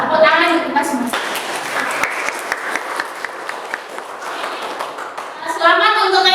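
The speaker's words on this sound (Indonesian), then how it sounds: "Tepuk tangan untuk kita semua." Classroom of 7A students applauding together, a dense wash of clapping that rises and fades, with children's voices and a teacher speaking at the start and end.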